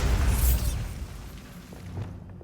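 The Bombarda spell detonates in Hogwarts Legacy with a loud, booming blast that rolls out and fades into a lingering low rumble.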